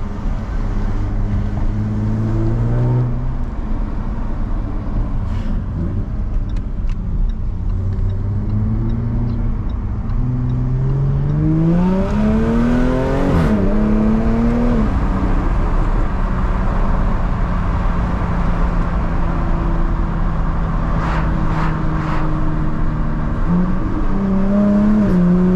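A Jaguar F-Type S 3.0-litre 380 hp V6 engine runs steadily, revving up and down through gears with a deep, throaty growl that rises in pitch during acceleration, loud and continuous.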